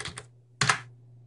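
Keystrokes on a computer keyboard while logging into a server setup screen, two short bursts of clicks separated by a pause, close and fairly quiet.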